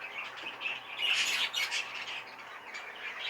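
A small Fife canary gives harsh, squawking calls in a series of bursts, close and moderately loud, with no talking over them.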